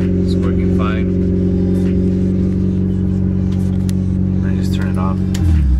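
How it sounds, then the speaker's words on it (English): Car engine idling steadily, then given a brief light rev near the end, with someone talking over the steady hum. "Now let me give it a little rev."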